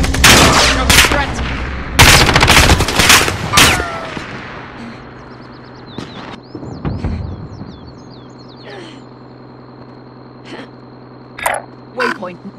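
Gunfire in the Warzone video game: rapid loud bursts of automatic shots in the first four seconds, then scattered sharper single shots later, with game voices and effects in between.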